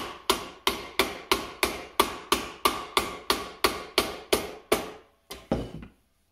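A snug wooden dovetail joint being tapped together: about fifteen sharp, evenly spaced knocks in a steady rhythm, close and fairly loud, with a couple of final taps after a short pause.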